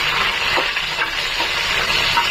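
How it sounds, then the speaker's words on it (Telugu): Curry leaves, chopped onions and green chilies fry in hot oil for veg pulao, giving a steady, loud, close sizzle with soft crackles and no talk. "కరివేపాకు, కట్ చేసి పెట్టుకున్న ఆనియన్స్, పచ్చిమిర్చి కొద్దిగా ఫ్రై చేసుకోవాలి."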